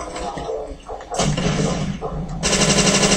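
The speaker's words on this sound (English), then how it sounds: "MG42 or something like that?" MG42 machine gun fire in the Call of Duty zombies map Nacht der Untoten, rapid bursts of gunfire growing louder and denser toward the end.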